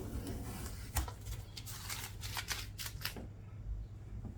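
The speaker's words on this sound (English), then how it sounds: "I could take the tape off." Tape is peeled in short crackling pulls from a Brooklyn PK13 kayak, several quick rips close by, then a quiet pause at the end.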